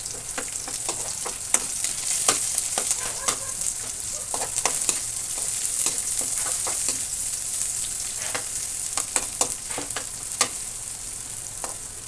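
Garlic and onion sauté in a pan with a dense, steady sizzle and crackle, punctuated by frequent spoon scrapes and taps against the pan, close and with no voices.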